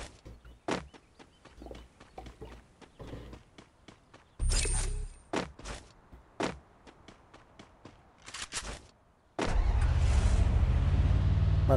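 A car in the mobile battle-royale game Free Fire. Scattered clicks and short bursts give way to a loud, sustained engine roar as the vehicle drives off, with no other sound over it.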